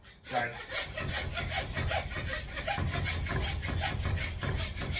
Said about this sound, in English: You want to saw through until you feel it go through the bone and stop